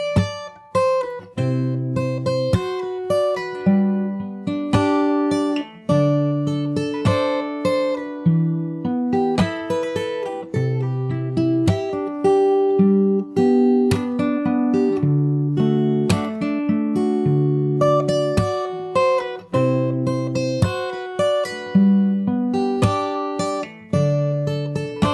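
Fingerstyle acoustic guitar plays the third chorus of a song slowly, with plucked melody notes over bass notes in a steady, unhurried rhythm, alone and close.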